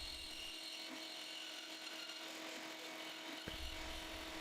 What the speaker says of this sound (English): making it easy to cut out on the bandsaw